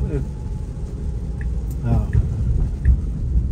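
Light rain patters steadily on a car while it drives, over a constant low road rumble, with a few faint tones and small bumps throughout.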